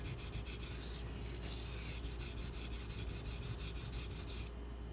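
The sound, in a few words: grinding Benchmade Mini Crooked River knife edge on sharpener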